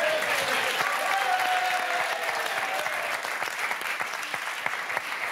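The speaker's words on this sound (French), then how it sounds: "Je sentais que j'allais avoir un applaudissement d'insoumis." A television studio audience claps in sustained, dense applause on a French talk show, loud and steady throughout before thinning slightly toward the end.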